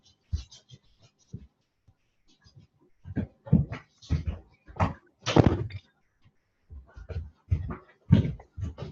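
A dog let out of a house: scattered thumps, claws and door noises, near and irregular, with quiet shuffling and a few knocks between them and no talking.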